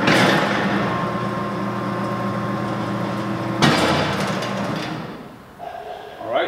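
A Roser buggy lift next to a Thompson 4300 mixer grinder, humming steadily as it raises and tips its load, then a sharp clunk and rattling dump before the motor winds down and a voice briefly talks.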